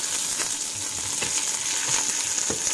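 Green chilies, curry leaves and cumin frying in a pan for a brahmi chutney, a steady close crackling sizzle with occasional sharper pops and no talking.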